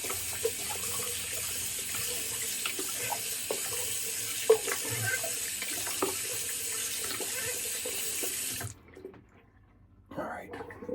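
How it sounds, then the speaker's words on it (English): Water runs and drains from a bathroom sink after a wet shave, a steady close trickle that carries on for several seconds then cuts off, followed by quiet with a faint voice. "let me get rid of this water"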